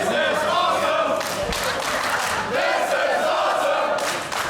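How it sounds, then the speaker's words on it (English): A wrestling crowd at a live two-out-of-three-falls match chants "This is awesome" in loud, rhythmic surging bursts that fill the whole clip, with no other voice over it. "The crowd are chanting, "This is awesome.""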